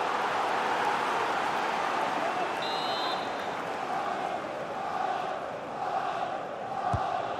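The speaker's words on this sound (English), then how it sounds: "the crowd is certainly trying to motivate the players to get the equaliser" Stadium crowd in EA FC 24 during an Arsenal vs Brentford Premier League match, a constant roaring wash of cheering and chanting from a large distant mass of fans.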